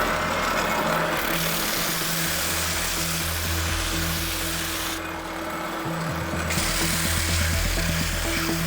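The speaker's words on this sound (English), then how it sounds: "this on the belt sander until you get to the bottom of these 4 pockets" A belt sander grinds the pockets of a wooden kit bow, giving a steady, loud machine drone with low hum throughout and brief shifts in pitch as pressure on the wood changes.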